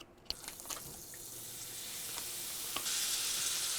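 Butter sizzles in a pan, ready for sautéing garlic, mushrooms and onion: a soft, steady hiss that grows brighter, with a few sharp clicks and clatters near the start.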